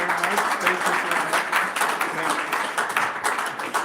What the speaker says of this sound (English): Can we please not stop clapping for him until he sits down?